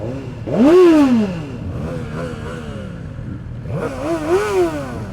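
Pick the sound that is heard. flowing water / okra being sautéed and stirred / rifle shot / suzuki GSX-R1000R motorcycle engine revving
suzuki GSX-R1000R motorcycle engine revving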